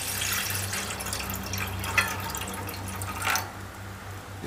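Water runs from a tap into a pot for boiling in a home kitchen, a soft steady splashing trickle with a couple of louder clinks, close and alone over a low hum.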